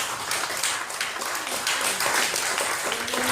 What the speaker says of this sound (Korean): 우리 살아계신 하나님께 영광의 박수 올리면서 환영하겠습니다.